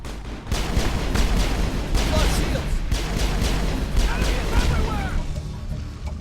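Gunfire in a Mass Effect firefight crackles as dense, loud, overlapping bursts of shots and booms, rattling continuously with no pause across the exchange.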